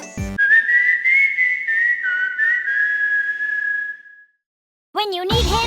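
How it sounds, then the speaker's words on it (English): A tune is whistled in the Chocobo GP racing video game, a clear, steady melodic whistle held for about four seconds, followed after a short pause by brief chirpy game sounds. "Whistling a tune, he's there."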